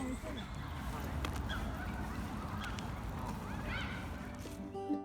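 Ducks and geese in a park give scattered honks and quacks over a faint outdoor background, moderately distant and fairly soft.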